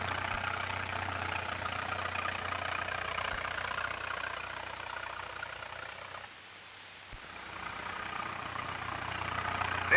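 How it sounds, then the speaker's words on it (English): An International 3x4-inch four-cylinder engine drives a corn binder, running with a steady, even hum throughout that briefly dips quieter in the middle before returning at full level. "This little job is powered by a real international 3x4-inch four-cylinder engine."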